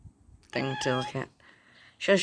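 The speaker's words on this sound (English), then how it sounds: "That's my cat." A house cat lets out a drawn-out, wavering meow close by, then a shorter second cry, while a person talks briefly around the calls.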